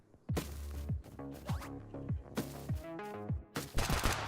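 Minigun fire in the Bullet League video game, heard as bursts of sharp shots in an uneven rhythm with metallic ringing tails, close and fairly loud, with no voices.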